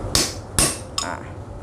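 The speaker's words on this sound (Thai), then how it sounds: "สำหรับ การตอก็ ใช้ท่อแป๊บ เหล็กนะครับ1กับ2 สามารถตอกลูกปืนได้อะ" A bearing is driven into a water pump by striking a steel pipe with a hammer, giving three sharp, ringing metallic blows close by, with each blow fainter than the last.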